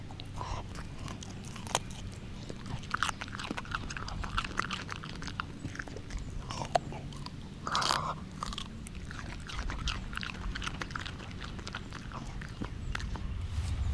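A dog chews cucumbers up close, with a steady run of wet crunches and bites over about fourteen seconds and no talking.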